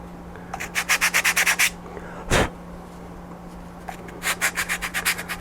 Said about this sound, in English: I got to be very careful on doing this sanding because it will snap in half.